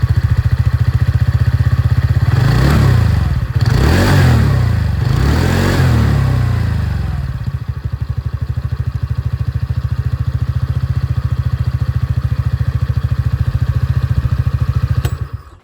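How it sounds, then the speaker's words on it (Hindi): A scooter engine revs sharply three times in quick succession, then settles into a steady, rumbling idle that runs for several seconds before cutting off. "इसकी भी एग्जॉस्ट साउंड आप लोग सुन लीजिए।"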